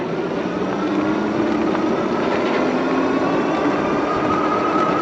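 Steady whirring hum of a Varun X-Plorer Raptor e-bike riding on throttle only at level 4, with constant motor drone and road and wind rumble and no talking.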